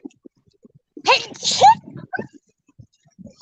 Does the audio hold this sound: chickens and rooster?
no